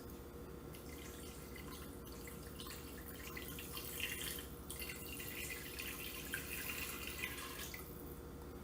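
Tap water runs steadily into an Instant Pot for beef stew, a continuous splashing and trickling pour at moderate distance with no one speaking.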